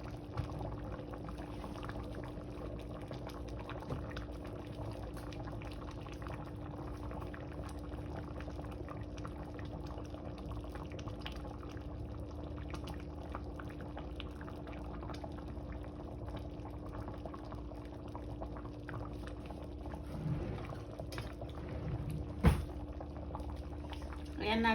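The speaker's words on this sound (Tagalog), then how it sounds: "Hayaan natin kumulo." A pot of broth with bagoong, lechon and shrimp simmers in a low, steady bubbling under a constant hum, fairly quiet, with a sharp clink near the end.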